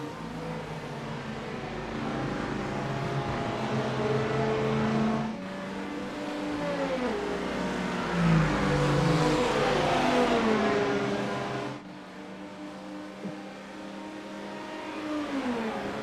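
Race car engines in the iRacing game at Sebring: several engines drone and rise and fall in pitch as they accelerate and shift, giving a steady, fairly loud roar with brief dips between gear changes and no speech.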